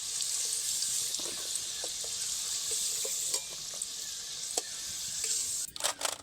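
Potatoes fry in oil with a constant bright sizzle up close, punctuated by occasional spoon clicks and scrapes, ending in a few louder clatters.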